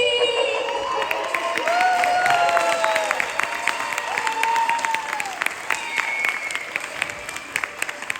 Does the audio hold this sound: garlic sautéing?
no